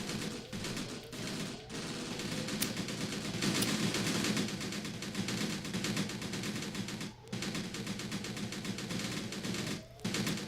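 Sustained gunfire from an enemy trench in the war game Graviteam Tactics, a dense crackle of rifle and machine-gun shots that rolls on steadily from some distance, with brief lulls, and no voices.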